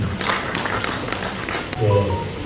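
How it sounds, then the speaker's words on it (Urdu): Audience applause at a mushaira, a poetry gathering held in memory of a poet, heard as a dense steady patter of many hands clapping, moderately loud and continuous throughout. "محترم بیگم انصاری صاحب زوردار تالی بجائیں گے"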